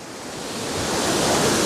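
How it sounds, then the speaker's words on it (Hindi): Water falling with a misty spray along a mountain trek toward Madhmaheshwar, a broad steady hiss and roar that swells slightly louder over the moment, with no voices. "कैसा पानी गिरने की, देखो कैसे धुंध हो रही है पानी की बौछार"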